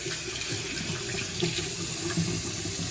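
Tap water runs steadily into a bathroom sink while someone wets their face, a continuous close hiss and splash with small irregular splashes from the hands and no speech.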